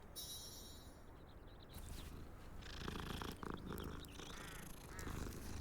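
Cat in the video game Hogwarts Legacy purring steadily while being petted, a soft continuous rumble that grows fuller partway through, layered with the game's ambient sounds.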